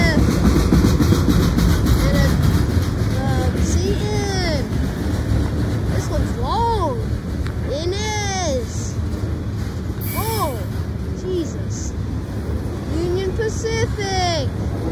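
A CSX freight train rumbles past steadily at close range while its wheels squeal in repeated arcing screeches, and a voice speaks over the noise.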